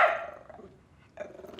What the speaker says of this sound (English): What a nice little doggy.